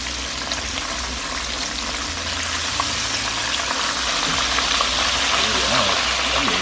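Breaded chicken cutlets for chicken parmesan fry in a pan with a steady, loud, crackling sizzle that runs throughout, broken by faint clinks and stirring sounds.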